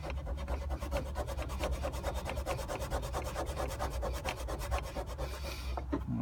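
Vigorous back-and-forth scrubbing of a mounting plate with alcohol, a fast rhythmic rasping rub that repeats steadily and stays close, then stops abruptly near the end.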